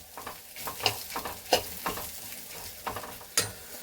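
Ridge gourd and onions tossed and fried in a pan, with a soft steady sizzle punctuated by repeated sharp scrapes and clinks of a spatula against the pan.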